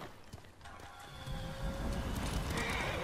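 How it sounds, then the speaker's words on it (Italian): In the Ghost of Tsushima video game a horse whinnies close by, then its hooves clip-clop in a quickening run that grows louder and steady over rushing ambience. "oramai abbiamo chiamato il cavallo"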